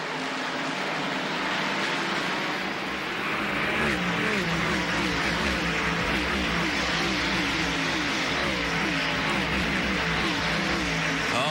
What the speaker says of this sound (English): when 30 plus of them thunder into life, they don't sound like they're lighter in weight, Benny.